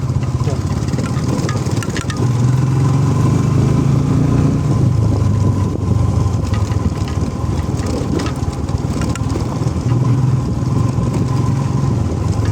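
Motorcycle engine off-road in mud, a loud continuous close rumble with slight changes in pitch, and a voice talking over it.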